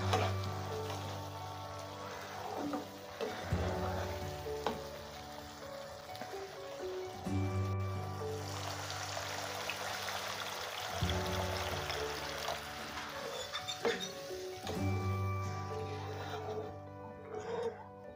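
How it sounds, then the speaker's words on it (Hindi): Water is poured into fried masala in a pan for fish curry, a steady splashing and sizzling pour that runs continuously under soft background music. "अब इसमें हम पानी डालेंगे 2 ग्लास।"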